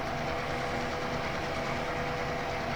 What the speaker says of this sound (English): Yes, there is a train up here.